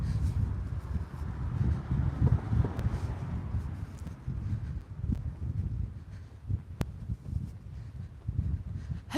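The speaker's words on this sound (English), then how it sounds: "It's so windy over here today." Strong gusts of wind buffet a microphone on a seaside walk between Magaluf and Palmanova in Mallorca, making a steady low rumbling roar that swells and dips, with no voices heard.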